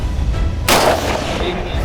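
A single loud, close gunshot boom from a hog hunt cuts through steady outdoor background noise and trails off in a short decay.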